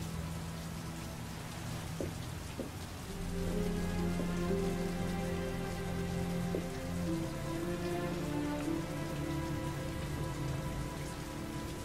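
Steady rain pours down in the PS3 game Heavy Rain, a dense, continuous hiss of drops on surfaces that swells louder after a few seconds, with soft musical tones running underneath and no talking.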